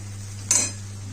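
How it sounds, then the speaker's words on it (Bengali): A single brief clink and scrape of a metal utensil against a pan while fried potatoes for chilli potato are stirred, quick and fairly close over a low steady hum. "দিয়ে একটু নাড়ি চাড়িয়ে নেবো।"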